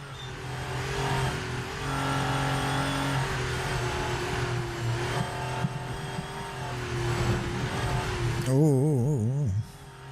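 A Porsche 992 GT3 engine drones steadily through a lap of the Nordschleife in a racing video game, a sustained close engine tone that shifts pitch, ending with a brief warbling sweep.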